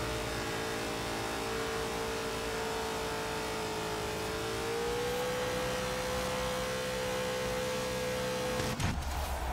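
A car engine in the racing video game Forza Horizon 3 holds a loud, sustained drone whose pitch dips and then rises, before a sharp burst of noise right at the end.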